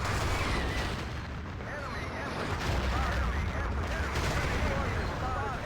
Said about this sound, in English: dropping a massive artillery on the oil cisterns